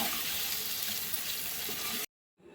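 Paneer fries in a pan with chilli powder, salt and butter, giving a soft, steady sizzle for about two seconds before it cuts off abruptly.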